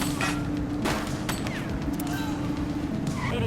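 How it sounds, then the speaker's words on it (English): Bursts of gunfire in the police video game The Precinct, scattered cracks and smashing impacts over a steady engine-like drone, moderately loud and continuous. "She's shooting!"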